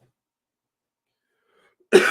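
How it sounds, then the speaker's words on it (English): Near silence, then one short, sharp cough bursts out right at the end, close and loud. "This cough, boy."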